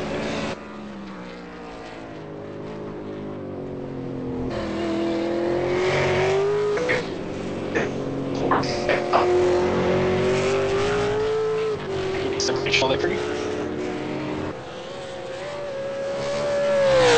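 V8 race car engine in a racing video game at Oulton Park, holding high revs through a qualifying flying lap, pitch rising and falling with gear changes and corners, loud and steady throughout.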